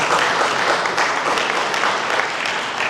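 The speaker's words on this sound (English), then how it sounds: "Can we give a round of applause for Nelson?" An audience applauds a speaker named Nelson at a panel event, with steady dense clapping holding at an even level throughout, close and continuous with no voices rising above it.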